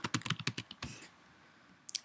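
Rapid keystrokes on a Mac computer keyboard as a password is typed, a quick run of crisp clicks ending in a heavier key press, then a brief pair of taps after a pause, close and clear.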